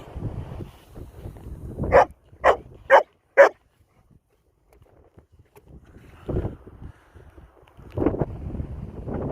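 A dog barking outdoors on a walk in wintry weather: four sharp, loud barks in quick succession, then quieter barks later, with wind rumble on the microphone between them.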